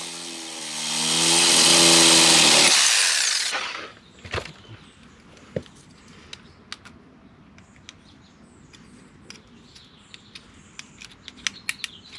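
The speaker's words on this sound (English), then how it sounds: "just cut it off with my sawzall" A reciprocating saw (Sawzall) cuts a stabilizer bar during a gas earthquake shut-off valve install, giving a loud, steady buzzing whine for a few seconds that stops abruptly, followed by scattered light clicks and taps.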